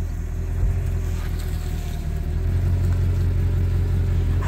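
A Mercedes W220 S500 saloon engine drones steadily while driving, a deep, constant low rumble with road noise filling the cabin and no talking.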